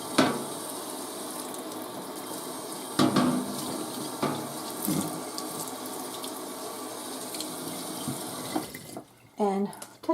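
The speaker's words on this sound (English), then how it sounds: "Rinse this back off, hot water." Hot water runs steadily from a kitchen tap as a baking sheet is rinsed, with occasional metal knocks and clatters, then the flow cuts off and a brief voice follows.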